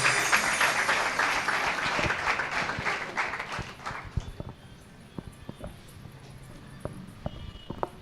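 A congregation at a New Year's Eve watch night church service applauds in a dense burst of hand clapping that fades after about four seconds into a few scattered claps and small knocks.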